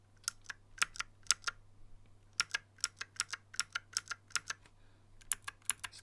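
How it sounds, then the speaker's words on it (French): Clicky mechanical keyboard switches pressed one after another, crisp sharp clicks in quick irregular bursts with short pauses, close and distinct over a low steady hum. "sur Windows et sur échappe, j'ai demandé des switches clicky. Donc c'est des switches qui font du bruit quand vous les enclenchez."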